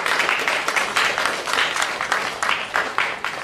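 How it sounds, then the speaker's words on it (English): Audience at a college leadership symposium applauding a school board trustee, a rhythmic, fairly close round of clapping with pulsing beats, a few voices mixed underneath. "if you guys give him a round of applause"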